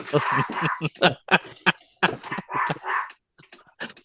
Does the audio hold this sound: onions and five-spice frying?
no